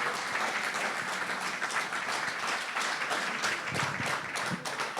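A room full of people at a journalism excellence awards event gives sustained, even applause, a dense crackle of many hands clapping at once that continues without a break.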